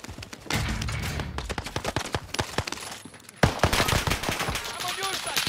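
Rapid automatic gunfire in a multiplayer video game shooter rattles in close bursts throughout, with louder shots after a brief pause, mixed with game effects and occasional speech.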